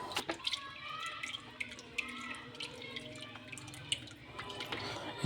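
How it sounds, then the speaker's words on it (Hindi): Oil poured into a clay cooking pot for a mixed vegetable curry, a faint soft trickle and patter close by, with a quiet background. "सबसे पहले 1 कप ऑयल ले लेंगे मिट्टी के पतीली में।"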